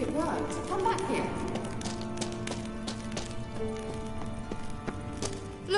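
Horse hooves clop in The Witcher 3 on PS4, a quick run of steps early on that eases into lighter, sparser taps under game music and a voice talking.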